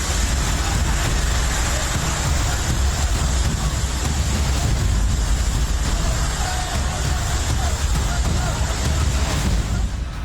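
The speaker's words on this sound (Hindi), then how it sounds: "देवभूमि में कुदरत का प्रहार, पहाड़ों पर बारिश मूसलाधार।" Torrential monsoon rain pours over the Uttarakhand mountains, a steady dense hiss with deep rumbling underneath that stays loud and unbroken for the whole stretch.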